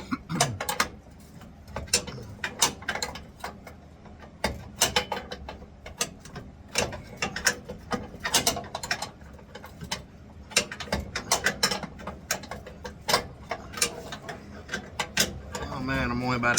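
Wrench clicking as it works a nut loose on a Ford Fairlane, a long series of sharp ratchet-like ticks in uneven bursts, close and fairly loud, with voices talking at times between them.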